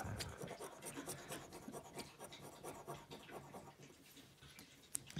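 A coin scrapes across a lottery scratch card, repeated rough rasping strokes in an uneven rhythm, close and fairly quiet, with a slight knock near the end.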